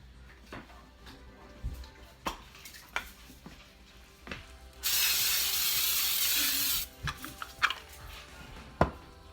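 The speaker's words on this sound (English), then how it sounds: "but I'm gonna spray my pan." Cooking spray hisses onto a baking pan in one steady two-second burst, close and fairly loud, set among faint kitchen clatter while cinnamon buns are prepared.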